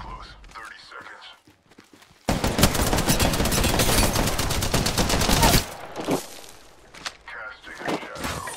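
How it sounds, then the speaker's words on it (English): Sustained rapid automatic gunfire in an Apex Legends trios battle royale match, a dense burst lasting several seconds between quieter stretches of movement, footsteps and faint character voice lines. "Getting shot at."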